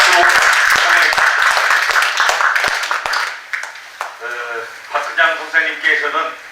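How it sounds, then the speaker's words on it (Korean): Audience clapping to welcome a speaker at a book launch, a brisk round of applause that thins out after about three seconds as a presenter's voice takes over. "박수로 환영합니다."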